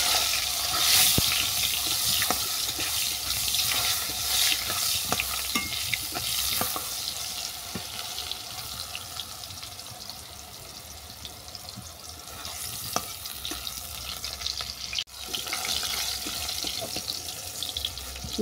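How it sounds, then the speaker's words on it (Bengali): Ridge gourd fries in hot oil left over from frying fish, a steady close sizzle and hiss that runs unbroken throughout, with a few faint utensil taps on top. "এই তেলের মধ্যে ঝিঙ্গেটাকে ভেজে নিচ্ছি।"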